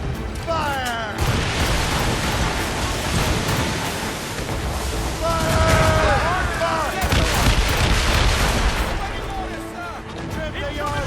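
Ship cannons fire during a naval battle in a video game: repeated deep booms and crackling blasts over wind and sea-like noise, with shouted commands heard throughout.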